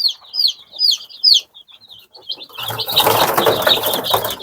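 Chirpy, high-pitched peeping from a few chicks, then a sudden burst of flapping and clucking from black Andijan chickens close by.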